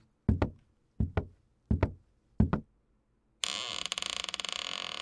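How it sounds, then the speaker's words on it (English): Scary-sound knocking effect: four evenly spaced double knocks on a door, loud and close, then a harsh, sustained buzzing alarm-like tone takes over. "Someone's knocking."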